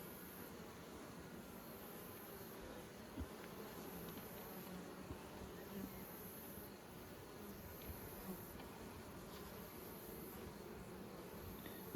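Honey bees buzzing around nucleus hives on a warm day in Nymboida, a dense continuous drone of many insects close by, with no voices.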